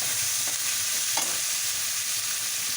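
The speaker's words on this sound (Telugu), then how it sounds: "టమాటా ముక్కలు కూడా మెత్తగా ఫ్రై చేసుకోవాలి" Tomato pieces fry in a pan for a cauliflower and fresh lentil curry, giving a loud, steady, close sizzle that holds evenly from start to end, with a couple of faint clicks.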